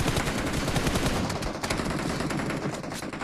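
Dense bursts of gunfire in a PUBG Mobile match, loud overlapping automatic shots crackling continuously with no speech over them.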